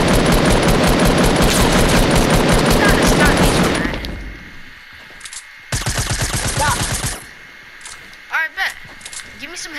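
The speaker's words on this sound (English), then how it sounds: "Stop shooting at me." Rapid automatic gunfire from a multiplayer shooter video game, loud, dense and sustained for about four seconds, then a second short burst after a pause, with scattered fainter shots and brief talk in between.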